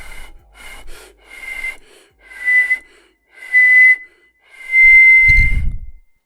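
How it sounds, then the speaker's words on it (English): A person whistles a series of short tonal notes, a few brief ones followed by longer sustained pitches, close and fairly loud, with a low breathy puff near the end. "all of a sudden now you get this whistle"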